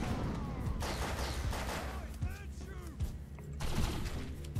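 Rapid gunfire from the video game Defiance, a dense mix of shots and bursts running continuously under a busy game soundscape with other effects layered in.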